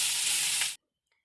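Ingredients for khichuri fry in a pan with a loud, hissing sizzle that cuts off abruptly after less than a second, leaving near silence.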